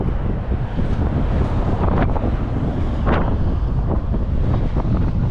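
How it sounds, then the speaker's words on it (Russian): Strong wind in Achinsk buffeting the microphone in a constant roaring rush, loud and turbulent with gusty swells and no talk. "Вы слышите, какое ветрище?"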